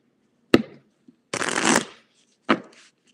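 Tarot cards being shuffled by hand, three quick bursts: a short riffle, a longer rustling shuffle, then another brief snap, close and clear against silence.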